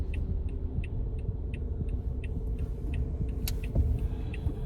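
Steady low rumble of a car driving on the road, continuous engine and road noise throughout with faint repeated high ticks and a brief louder swell near the end.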